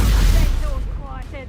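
Confringo fire spell blasting in the video game Hogwarts Legacy, a loud booming burst at the start that fades into a rumbling decay, with voices heard over it.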